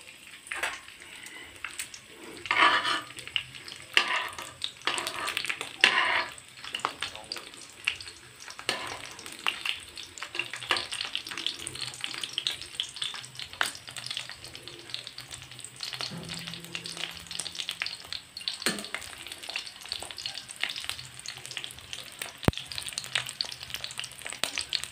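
Tuyo dried fish sizzles and crackles steadily in hot cooking oil, a dense close frying hiss with occasional stirring and scraping sounds throughout.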